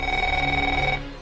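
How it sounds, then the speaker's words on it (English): A telephone rings in the video game Neofeud, a steady electronic two-tone ring held for about a second and then cut off, close and clear. "Phone's ringing."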